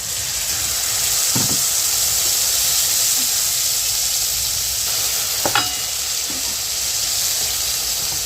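Spice paste for cholar dal sizzles steadily in a hot pan, a dense continuous frying hiss with a few brief scraping stirs, close and loud.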